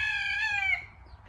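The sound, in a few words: chickens and ducks in a backyard pen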